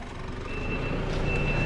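A reversing vehicle, likely a truck, backs up with a faint steady beeping over a loud rumbling engine.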